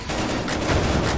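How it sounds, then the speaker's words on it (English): Dense gunfire in a multiplayer VR shooter game, a continuous loud barrage of overlapping shots with repeated sharp bursts throughout the short span. "Mike, you keep shooting me"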